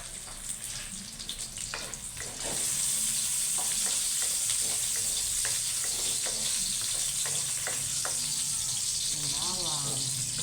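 Cooking oil in a pan bursts into a loud, steady sizzle a couple of seconds in and keeps crackling, with light stirring or clatter heard under it.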